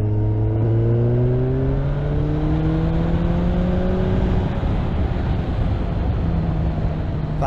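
A 2021 Suzuki Hayabusa accelerates hard while being ridden, its engine note climbing steadily through the gears with smooth rising whines over wind rush, loud and continuous with no talking.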